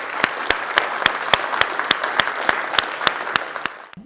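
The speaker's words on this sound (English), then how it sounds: "Let's give them a round of applause." Audience applause after a panel of talks on smart technologies, a steady roll of clapping with a few sharp, evenly spaced claps standing out, lasting about four seconds before tapering off.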